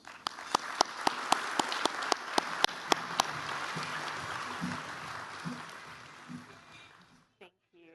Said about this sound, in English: Please join me in welcoming them with a round of applause.